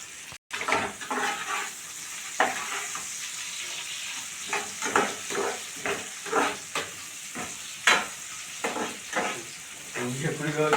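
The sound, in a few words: frying and stirring in a pan until golden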